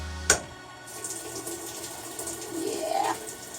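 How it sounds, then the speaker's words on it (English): A washing machine fills with water on a hot wash cycle. A sharp click opens onto a steady rush of running water that swells slightly toward the end. "so we are going to wash them on a hot cycle."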